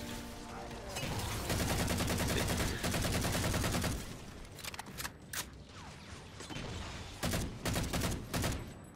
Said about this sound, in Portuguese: Tô tomando tiro da onde?